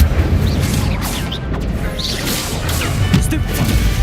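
Incendio fire spell from Hogwarts Legacy bursts out in a string of crashing whooshes and impacts, loud and busy over a steady game background.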